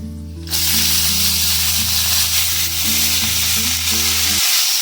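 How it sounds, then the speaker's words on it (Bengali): Chopped sour okra drops into hot oil with five-spice on a low gas flame for a quick chutney and bursts into a loud, steady, close sizzle that fills the clip, with a low hum underneath. "গ্যাসটাকে লো করে এবার আমি এর মধ্যে দিয়ে দিলাম যে টক ঢ্যাঁড়সগুলো আমি কেটে রাখলাম, সেই টক ঢ্যাঁড়সগুলো।"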